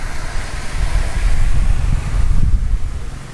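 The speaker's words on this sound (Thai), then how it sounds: "ยืนอยู่ตรงนี้ลมโชยเย็นสบายดีมากๆเลยค่ะ" Breeze gusting steadily beside a village pond, a continuous low rumble of wind buffeting the microphone that swells and eases over a few seconds with no voices.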